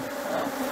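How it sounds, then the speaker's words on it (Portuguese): Dense buzzing of many bees swarming around a heavily loaded beehive super in an apiary, a steady close drone with no voices. "sobreninho aqui carregado de abelhas"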